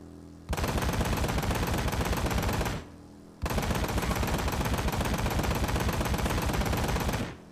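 Dense automatic gunfire from the video game Ride to Hell: Retribution, two sustained loud bursts of rapid shots separated by a brief pause, with no talking.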